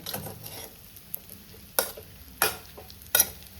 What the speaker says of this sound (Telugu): ఇలా కలుపుతూ ఉండాలి. ఫ్లేమ్ మాత్రం లోలో పెట్టేసుకోండి.